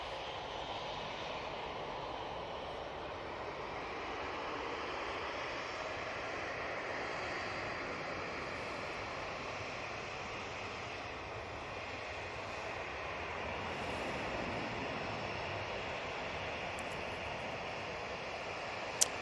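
An ET Fairways aircraft taxis along taxiway Victor Alpha at Manchester Airport, a faint, steady engine whine and hum carrying from a distance with little change in level.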